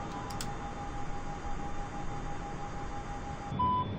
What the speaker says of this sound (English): Let's get the rest done and then I'll deactivate that alarm.